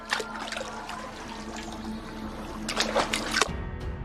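River water in a film scene trickles and splashes steadily, close and fairly loud, with a brief stronger sloshing surge near the end before it cuts off.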